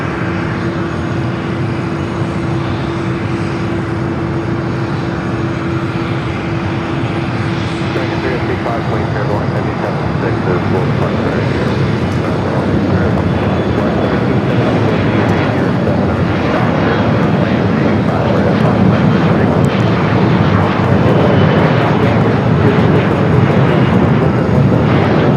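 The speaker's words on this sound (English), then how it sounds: "Aer Lingus Shamrock now continuing his taxi down to Bravo" An Aer Lingus airliner taxiing at Los Angeles LAX airport gives a steady broad jet engine roar with a faint whine at first, slowly building louder over the clip without clear talk over it.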